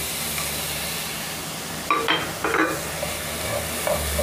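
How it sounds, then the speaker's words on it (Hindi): Khoya (milk solids) roasting in a pan for matanjan or zarda, with a soft steady sizzle and a few louder stirring scrapes near the middle and end. "अब एक पैन लेंगे, उसके अंदर पहले ये खोया मैंने आपको जो बताया था इसको हम थोड़ा सा भून लेंगे।"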